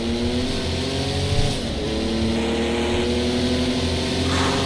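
Race car engine in a racing video game, holding a steady loud drone with shifting revs and gear changes, close and continuous throughout with no talk.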